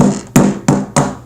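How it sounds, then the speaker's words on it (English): Three sharp, evenly spaced hammer blows knock a popped-out Rubik's cube piece back into place, each one loud, close and ringing briefly. "if it just pops out like that, just hammer it back in"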